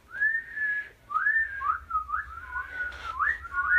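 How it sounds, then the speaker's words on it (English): A single person whistles while inhaling, a wavering, sliding tune, breathy and close, in short connected phrases with no talking. "I can whistle, inhale, but I can't exhale the whistle"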